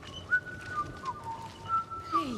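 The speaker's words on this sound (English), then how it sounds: "Please, stop. Whistling. Do you not like a tune?" A character in the video game Banishers: Ghosts of New Eden whistles a short, wavering tune, with clear sustained notes that slide between pitches over quiet ambient background.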